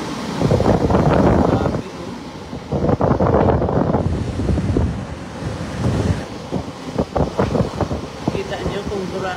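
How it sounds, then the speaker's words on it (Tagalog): Typhoon Uwan winds roar through Legazpi in loud, buffeting gusts that batter the microphone with deep rumbling surges and brief lulls, while voices are faintly mixed in. "Gaano kalakas ang hangin ngayon dito sa Legazpi"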